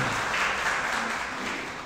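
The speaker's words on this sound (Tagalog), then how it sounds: "Sa muling malakas na palakpak para sa Panginoon." Church congregation applauding at a worship service, a steady wash of clapping heard from a moderate distance, continuous through the short stretch and fading slightly at the end.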